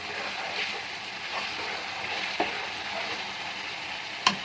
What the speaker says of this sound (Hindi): ऑयल निकल रहा है, ज़बरदस्त सी भुनाई हो रही है।